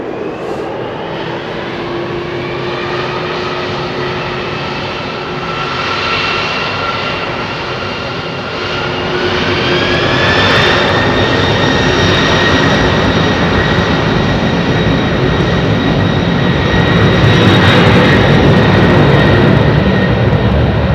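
A Boeing 747 freighter jet departing runway 27R at London Heathrow Airport, a loud sustained engine roar with rising whining tones that swells steadily as it powers away, with no voices.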